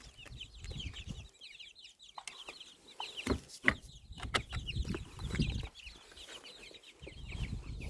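Young chickens and bantam hens cluck and chirp steadily in a garden run, a busy overlapping chorus close by with occasional soft thumps and rustles.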